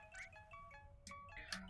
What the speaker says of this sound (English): Oh, that's my phone.